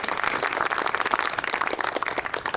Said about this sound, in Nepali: सृजन ताम्राकारलाई ताली दिनको लागि अनुरोध गर्छु